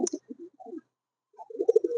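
Lakha pigeons cooing in short, low, throaty bursts, a breeding pair that has raised chicks, close by with a brief pause between two rounds of calls.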